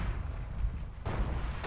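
A grenade goes off in the World War II shooter Forgotten Hope 2 with dull, low, thudding blasts and rumbling battlefield noise, fairly muffled, including a sharper burst about two-thirds of the way through.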